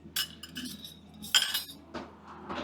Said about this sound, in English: So much cutlery comes with this thing.